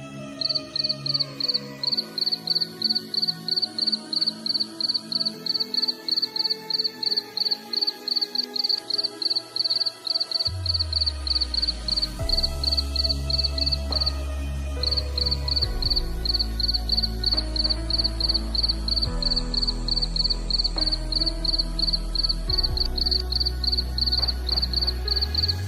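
Crickets at a cricket breeding farm chirp in a steady, rapid high-pitched trill that runs almost continuously and close by, with a brief break partway through, while deep background music plays underneath.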